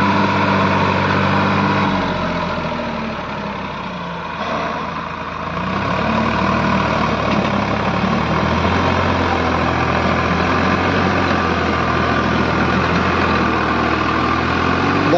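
A Farmtrac 60 tractor hitched to a 6-foot rotavator idles loudly and close by, a steady low diesel rumble that dips briefly before settling back to an even drone.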